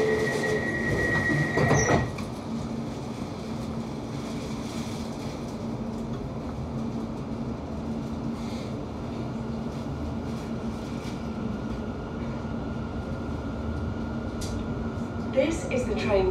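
A London Overground train on the Goblin line rumbles steadily along the rails with a low, continuous roar, a brief squeal near the start and faint rattling throughout.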